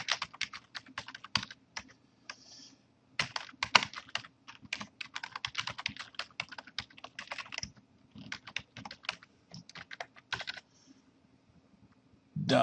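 Someone types a username and password on a computer keyboard: quick, crisp key clicks in bursts with short pauses between them, close and fairly quiet, with no voices.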